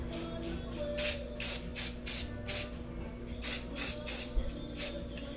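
Yellow spray paint from an aerosol can hisses in a string of short bursts, about eight quick sprays in two groups with a pause between, close and fairly quiet over a low background hum.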